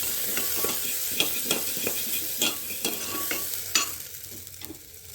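Chopped onion and grated ginger fry in a pan for restaurant-style toor dal tadka, giving a steady sizzle broken by repeated scrapes and clinks of a spoon stirring, close up and without talking.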